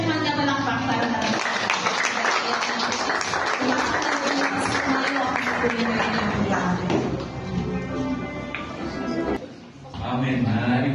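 A church congregation gives dense, sustained applause at a pastor's ordination service. The clapping stays loud and close for most of the stretch, with voices talking over it, before it briefly dips near the end.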